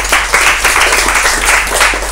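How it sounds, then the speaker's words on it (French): Warm, dense applause from an audience greeting school teams at a word contest, steady broadband clapping filling the full stretch without pause. "c'est avec ces applaudissements vraiment chaleureux"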